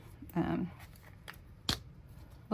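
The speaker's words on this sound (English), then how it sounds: "use some scissors to cut" Scissors snip through card stock in a short crisp cut, followed by a couple of quieter clicks and rustles in a quiet room.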